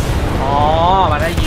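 Gunfire in the video game Titanfall 2: a dense, continuous roar of rapid shots and battle noise that stays loud and steady throughout, with a voice speaking over the barrage.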